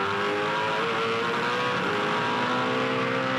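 V8 Supercar race car at Winton Raceway in 2006, engine screaming loudly and continuously as it pulls through the gears, pitch rising steadily with no talk over it.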